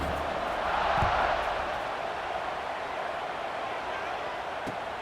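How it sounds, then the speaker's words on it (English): A football stadium crowd at a BYU vs Utah game buzzes after a score, a dense, steady roar of many distant voices with a brief swell near the start. "this crowd is buzzing after that last score"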